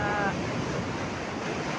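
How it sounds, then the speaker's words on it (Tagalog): Sea waves break and wash steadily on a shore where fish live along the edge, in rough, choppy conditions: a continuous close roar of surf and wind with no pauses. "Mga ganyan yung alon guys."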